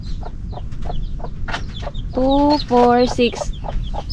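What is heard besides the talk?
chick chirping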